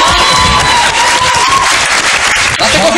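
A button on a Norwegian TV comedy show triggers a canned applause sound effect. It is loud, dense crowd clapping with some cheering, sustained for the whole stretch, with a faint tone underneath.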